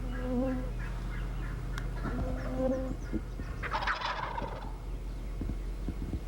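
Two young wild turkey gobblers gobble close by in a spring woodland, giving several rattling, rapid gobbles in separate bursts against a quiet outdoor background.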